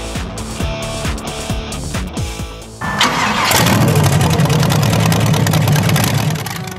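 The engine of the world's biggest motorbike, a huge machine with airplane tires mounted on its sides, cranks with a rhythmic starter churn, then catches and roars into a loud, rough idle close by.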